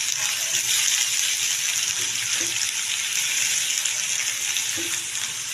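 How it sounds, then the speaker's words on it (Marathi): Onion fries in hot oil at the start of a chickpea greens curry, a dense, loud hiss of sizzling heard close up and continuous, with an occasional faint clink. "मस्त कांद्याला भाजू द्यायची."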